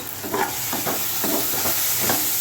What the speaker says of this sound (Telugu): ఇప్పుడు బంగాళదుంప ముక్కలు వేస్తున్నానండి ఉడకబెట్టి ఉడుచుకున్న ముక్కలు